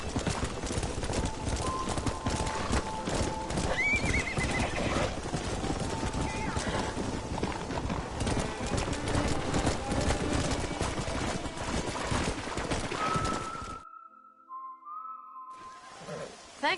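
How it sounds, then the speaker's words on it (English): Horses in the Red Dead Redemption video game, with steady hoof clip-clops running through most of the stretch, a short whistle-like call, and a faint whinny, all under background ambience before a near-silent break near the end. "We got some fine horses."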